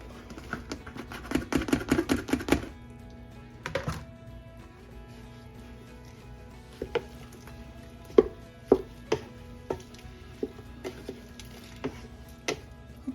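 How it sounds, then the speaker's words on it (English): Peppers tumble into a stock pot already holding tomatoes for salsa, a dense clatter of chopped pieces at first, then scattered soft thuds and taps trailing off, close by and fairly quiet. "I'm going to add all these peppers."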